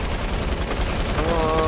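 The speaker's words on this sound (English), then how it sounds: "I need to waste my bullets so I can reload." Rapid video game gunfire rattles in a dense, continuous burst as a magazine is emptied before reloading, loud and close throughout the short stretch.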